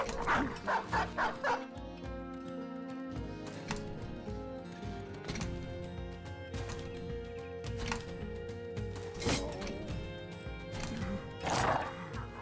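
Dogs barking in a video game, a run of quick yaps at the start followed by scattered barks, clattering hooves and horse whinnies, with music-like tones running underneath.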